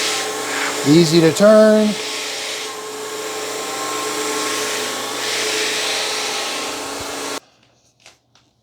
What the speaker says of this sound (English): Now I'm going to let up, and now it's only doing suction.